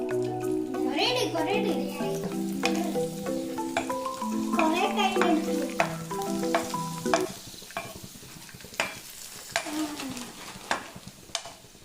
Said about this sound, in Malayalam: അതാകുന്ന സമയം കൊണ്ട് നമുക്ക് ഈ പപ്പടം പൊരിക്കാം